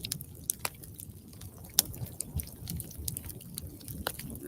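Dog gnawing on a bone close up: a steady stream of wet chewing and squishing, broken by sharp cracks and crunches at irregular moments, with no voices.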